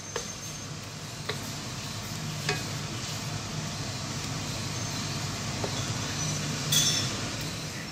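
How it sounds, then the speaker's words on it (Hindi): Vegetables are stirred into a pan of sizzling Thai red curry, with a steady close frying hiss and a few light clinks of a spoon against the pan. "धीरे धीरे करके हम सारी वेजिटेबल्स को ऐड करेंगे और फिर इसको हम देंगे एक अच्छा सा मिक्स।"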